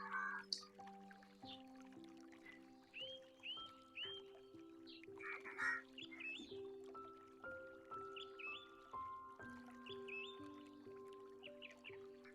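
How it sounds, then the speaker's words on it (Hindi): Birds chirping beside a flowing river on a quiet morning, with repeated short whistled and warbling calls over a soft watery background and sustained low musical tones. "और चारों तरफ एकदम शांति, सिर्फ पक्षियों की चहचहाने की आवाज"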